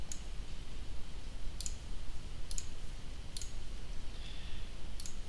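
A computer mouse clicks faintly while a MultiMC instance is set up, about five sharp single clicks spaced unevenly over a quiet background hum.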